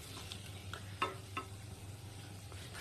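Snacks fry in hot oil in a wok in a home kitchen, giving a quiet, steady sizzle with a few soft clicks and taps. No one talks.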